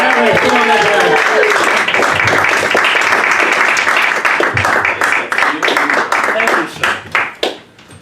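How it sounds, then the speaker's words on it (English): Loud, close audience applause at a stand-up comedy show, a thick wash of clapping with some whoops that holds strong before thinning into scattered claps and fading out. "please give a big round of applause for your first comic"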